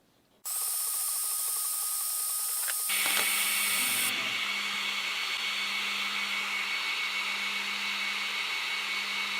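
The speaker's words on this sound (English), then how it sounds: "Let's see if this ham will engrave." An Ortur Laser Master 3 laser engraving ham, a loud steady whirring fan or air-assist drone starting abruptly and holding constant, with a tone shift partway as the machine's hum changes.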